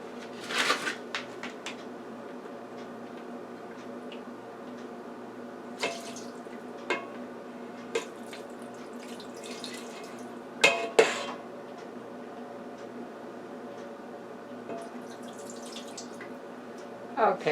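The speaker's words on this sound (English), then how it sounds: "I'm going to put some water on here and pour that in." Water is poured onto a plate of leftover seasoning while cooking beef brisket and rice with vegetables, producing intermittent close splashes, trickles and a few sharp clinks of dishware in a quiet kitchen.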